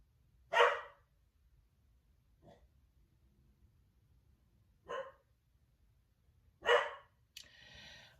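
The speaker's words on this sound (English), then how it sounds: "puppy doesn't usually bark, and I have no idea what puppy's barking at" A puppy barks in a quiet room: three sharp, fairly loud barks spread over several seconds with a faint yip between them, then a short burst of rustling noise at the end.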